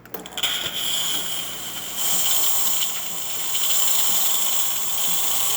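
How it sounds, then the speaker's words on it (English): Steam wand of a DeLonghi espresso machine steaming after a full tune-up, a loud, steady broadband hiss that swells further about two seconds in and holds strong, close up and with no talking. "machine is steaming out perfectly fine, correctly. Excellent pressure coming out from the steamer one"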